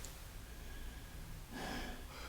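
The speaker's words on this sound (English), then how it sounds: "So I'm taking a very large breath, letting it go." A trumpet player's breathing exercise: a large, airy breath drawn in and released, soft and close against a quiet room hiss, with a louder rush of air near the end and no talking.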